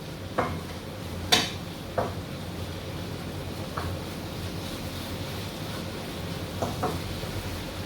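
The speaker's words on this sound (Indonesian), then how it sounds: "Kemudian kita aduk." Bakpao dough ingredients stirred in a bowl, with a spoon scraping and clinking against the sides in scattered taps over a steady background hiss, no talking.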